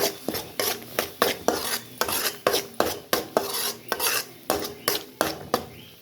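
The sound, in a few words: stirring and sautéing onion with ground tomato in a pan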